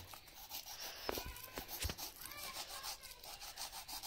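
A knife saws through a yellow pineapple, giving soft rubbing, scraping strokes and a few small taps, close and quiet with no talk over it.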